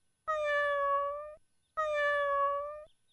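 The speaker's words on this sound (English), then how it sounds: "I'm calling my cat." A cartoon cat gives two clear, drawn-out meows in steady succession, each tonal and loud, with a short gap between them and no other sound around.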